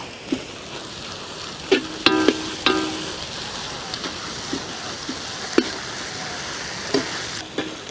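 Green chilies with crushed ginger and garlic frying in a pan for a village-style goat intestine curry: a soft, steady close sizzle broken by a few light clinks of stirring.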